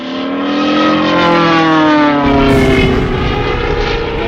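A Japanese warplane roars low overhead during the attack on Pearl Harbor, its propeller engine loud and close, the pitch sliding downward as it passes.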